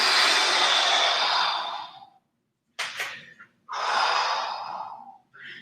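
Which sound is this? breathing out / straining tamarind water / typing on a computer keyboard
breathing out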